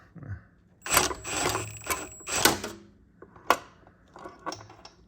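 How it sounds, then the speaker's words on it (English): A 16 mm socket wrench ratchets on a car's motor mount bolt on the passenger side, a few close bursts of rapid clicking separated by short pauses. "I've got my 16 millimeter socket on that motor mount bolt"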